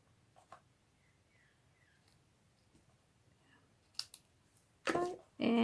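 Scissors trim paper while making a papercraft gift box: a few faint clicks and rustles, then two loud, close snips near the end.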